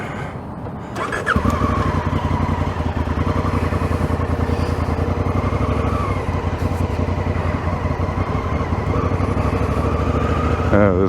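Honda Africa Twin motorcycle riding through city streets, a steady loud engine drone running throughout with a faint rev change near the end.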